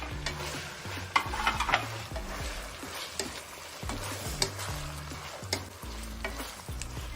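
Vegetables for veg biryani fry in a pan with ginger-garlic paste, giving a steady loud sizzle with repeated scraping and clacking as a spatula stirs, close up and continuous.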